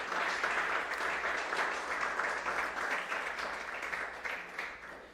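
Church congregation applauding together, a steady dense wash of clapping that holds for several seconds before gradually thinning, with no voices over it.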